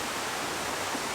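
Sombrio waterfall pours steadily on a forested stretch of coast, a dense, even roar of falling water filling the whole moment with no other sound.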